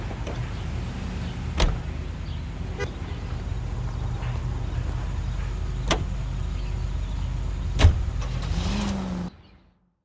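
A car driving in the video game L.A. Noire, with a steady engine drone and road rumble throughout and a few sharp clicks and knocks over it, before the sound cuts off abruptly at the end.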